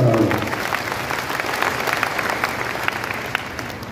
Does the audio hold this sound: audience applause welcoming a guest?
yes